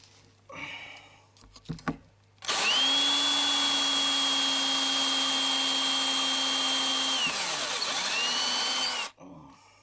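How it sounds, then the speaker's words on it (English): A power drill drives small screws into wood in a B&Q store, sounding as one loud, steady whine that runs for several seconds after a few short clicks and then cuts off abruptly. "Put a small screw in there."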